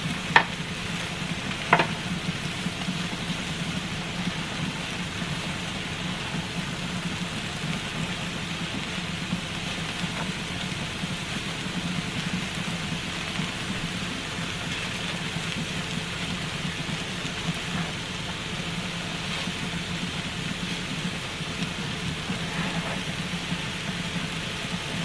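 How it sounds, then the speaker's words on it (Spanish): Red chiles roasting until browned and slightly dried, giving a steady soft sizzle with faint crackles, moderately close and continuous throughout, with no talking. "que se doren, que se cuezan como así doraditos, que no tengan mucho jugo, que se reseque un poquito, que queden bien asados"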